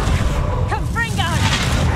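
A Confringo blasting spell bursts in Hogwarts Legacy with a loud, deep boom and rumble, while a voice speaks briefly over the blast.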